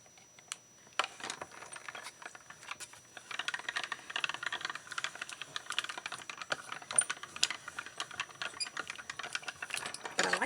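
A manual die cutting machine presses a die through card for a snowman card, producing a run of rapid clicking, ratcheting mechanical sounds, close and moderately loud, continuing steadily with no talking.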